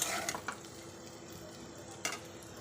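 Fried bitter gourd and potatoes with sesame seeds are scooped from a pan onto a plate, giving a few sharp metal clinks and scrapes at the start and one more near the end, with a quiet background in between.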